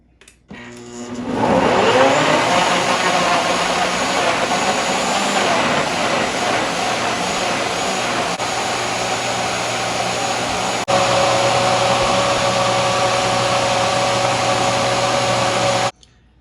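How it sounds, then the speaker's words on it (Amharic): An electric blender grinds smoothie ingredients for a weight-loss drink, starting with a short rising whir and then holding a loud, steady motor roar for about fifteen seconds before cutting off. "አሁን ይሄንን በደንብ አድርጌ እፈጫለሁ ማለት ነው"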